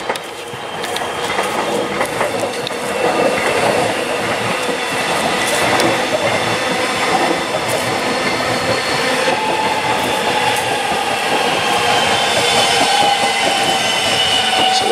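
A train rolls past on the tracks near Brennan Street, North Fitzroy, loud and steady throughout, with rhythmic clattering wheels and occasional metallic squeals.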